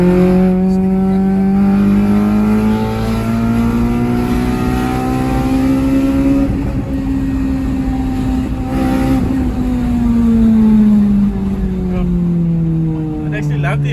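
A Honda Civic Type R FN2 engine revs loudly while the car is driving, its pitch climbing and falling smoothly across the run. It holds up near and prominent, with a voice talking faintly under it.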